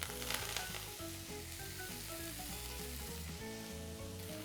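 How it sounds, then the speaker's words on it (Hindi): Chopped fenugreek leaves fry lightly in oil with a soft, continuous sizzle, while music plays prominently over it. "हल्के से तेल में इसे भून दो"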